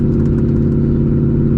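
A modified 2007 Ford Mustang GT engine holds a loud, steady low rumble, heard up close as a sustained throaty drone with no clear rise in revs.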